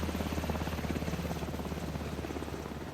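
A helicopter flies overhead in the video game Alan Wake 2, its steady rotor chop thudding in a fast even rhythm, loud and close, with no talk over it.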